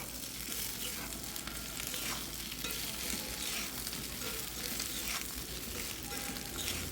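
Ground ginger and green chilli paste frying in tempering oil in a cast iron pan, a loud, dense, continuous sizzle with stirring scrapes throughout and no voice.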